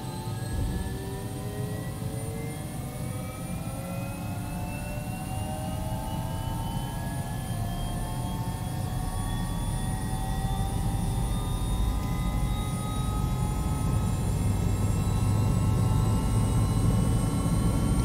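A helicopter turbine engine starts up under its engine controller, a steady close roar with rising whine tones slowly climbing in pitch as it spools up.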